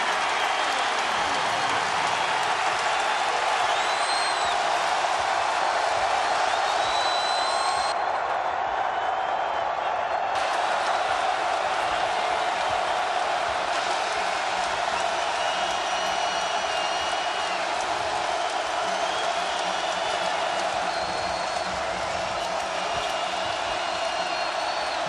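A basketball arena crowd roars through a Virginia versus Virginia Tech game in 2017, a dense, sustained wash of cheering and applause that stays loud and steady throughout, with voices mixed into the din.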